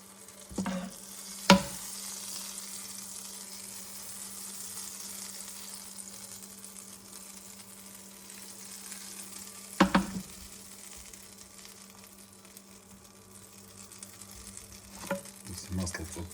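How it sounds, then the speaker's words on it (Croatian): Butter melts in a frying pan on the stove and gives a steady close sizzle and crackle for the whole stretch, with a few sharp clanks of the pan and utensil along the way. "idemo topiti još malo maslaca."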